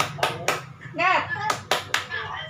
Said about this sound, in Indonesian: coba tepuk semangat dulu, tepuk semangat